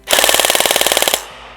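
A G&G Firehawk High Cycle airsoft gun fires one full-auto burst of about a second, a very fast, evenly spaced mechanical rattle that is close, loud and alone, then stops abruptly.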